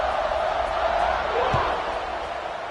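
A stadium crowd at a Notre Dame versus Texas football game keeps up a loud, continuous roar throughout, with a brief thud partway through.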